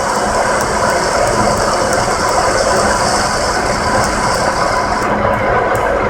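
An engine lathe runs with its feed disengaged, giving a loud, steady mechanical whir and rattling grind that holds constant throughout with no pauses.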